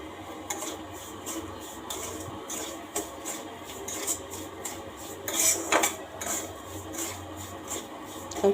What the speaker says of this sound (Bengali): এই যে সুজির হালুয়াটা করবো বলে আগে থেকে সুজিটা ভেজে নিচ্ছি